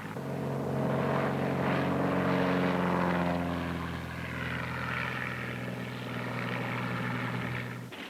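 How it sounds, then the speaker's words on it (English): A propeller-driven pontoon floatplane is taking off or landing on a lake or river, its engine a loud, steady, nearby drone that wavers in pitch and fades slightly at the very end. "pontoon planes make use of lakes and rivers for takeoffs and landings"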